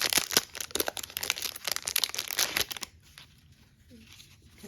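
Colored paper envelopes handled up close, a dense run of crinkling and rustling that stops abruptly partway through, leaving near silence.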